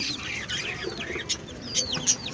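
Soft, high-pitched clucks and peeping chirps from chicks on a Chennai rooftop poultry setup, close by and fairly quiet, scattered in quick irregular bursts.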